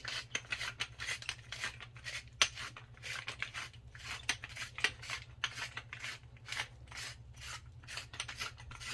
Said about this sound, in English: So I'm going to do pepper and salt all over everything.